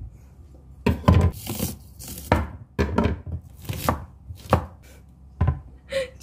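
A knife cuts through a Korean melon in a string of close crisp chopping strokes, roughly ten firm cuts at an uneven pace with quiet gaps between, no talk.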